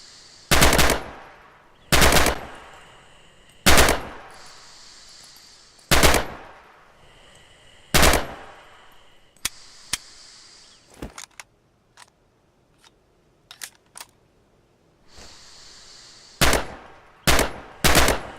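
Automatic rifle bursts at range targets in Red Orchestra 2 ring out loud and close in steady repeated volleys, broken midway by scattered single shots before the heavy bursts resume.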